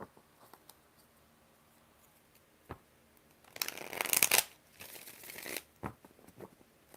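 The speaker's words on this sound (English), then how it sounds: "5 shuffles for Senorita Perfecta and the guidance for the situation with CM." A deck of tarot cards is shuffled in a quiet room: soft scattered taps, then a loud riffling burst lasting about two seconds and a second shorter burst, with light handling sounds after.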